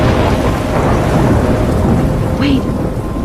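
Thunderstorm in the Life is Strange video game, with steady loud heavy rain and a continuous rumble of thunder filling the scene throughout, and no talking.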